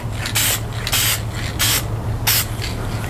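Four short bursts of white spray paint hissing through a stencil onto an inflatable boat, each light pass lasting about half a second with brief gaps between, close and fairly loud.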